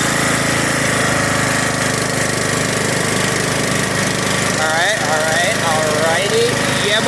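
A loud engine runs steadily throughout as a slipping clutch is slowly engaged, with a rising, wavering whine appearing near the end over the constant drone.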